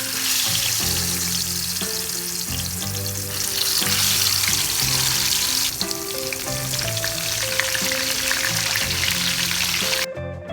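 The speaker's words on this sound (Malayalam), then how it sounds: "നമുക്ക് ഒരു ഫ്രൈ പാനിൽ കുറച്ച് എണ്ണ ഒഴിച്ചിട്ട് മീൻ ഫ്രൈ ചെയ്തെടുക്കാം" Shahoor fish frying in oil in a frying pan, a dense loud crackling sizzle under steady tonal background music that cuts off abruptly at the end, no voices.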